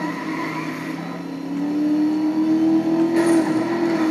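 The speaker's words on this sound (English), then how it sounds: "Still, the turbo noise sounds amazing." A Mercedes-Benz SLS AMG in Need For Speed Most Wanted accelerates at night, its engine tone climbing steadily with a whistling turbo-like whine rising over it, close and fairly loud, without talking.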